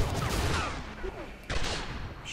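Gunfire rattles in a shootout in the video game Singularity, with rapid overlapping bursts of shots that fade briefly and then resume with a sharp new volley.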